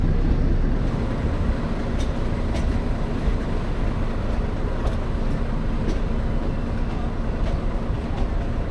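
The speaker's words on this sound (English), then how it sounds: "we say goodbye to the duplicate steam engine hauling the Heritage Special." A steam engine hauling a heritage special train on a metre gauge line, a steady dense rumble and rolling noise with faint periodic clanks, sustained throughout.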